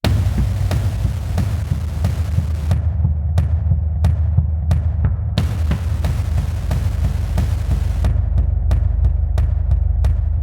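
Sample Logic Drum Fury Motion drum loop with effects, a pulsing loop of deep booming hits over a sustained low hum, with crisp percussive transients falling in a regular rhythm that thins out and returns.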